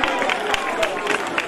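Short burst of crowd clapping at a Ramlila stage event, dense and continuous, blended with crowd hubbub for a moment.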